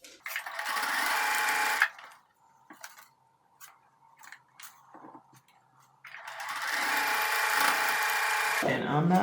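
A sewing machine stitches half square triangle quilt pieces in two loud, steady whirring runs, with a quieter gap of fabric handling and small clicks between them.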